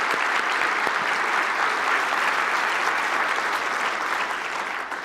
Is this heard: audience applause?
yes